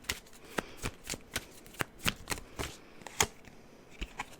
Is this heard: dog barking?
no